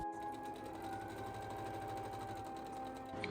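Sewing machine stitching the folded sleeve of a dress, a steady, rapid mechanical whir and needle rhythm running continuously up close with no talking.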